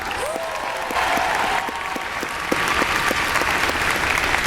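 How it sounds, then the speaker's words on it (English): Audience applause fills a hall at an anime convention's Sailor Moon panel, steady dense clapping at a loud, even level throughout. "give him a big round of applause"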